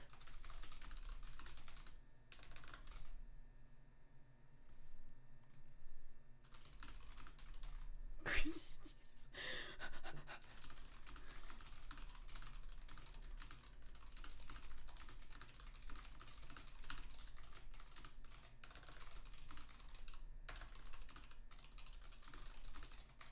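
Someone types steadily on a computer keyboard during a game session. The keystrokes are soft, continuous and close against a background hum, with a brief louder knock partway through.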